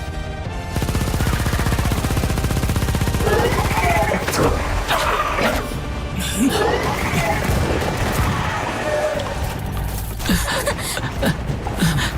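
Bursts of rapid gunfire crackle over a busy, noisy scene, with shouting voices mixed in.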